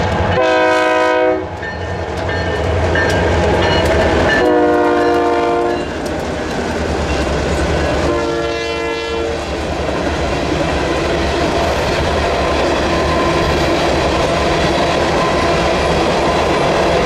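A freight train on the Nittany and Bald Eagle shortline passes close by, sounding three long horn blasts over a loud rumble and clickety-clack of rolling cars.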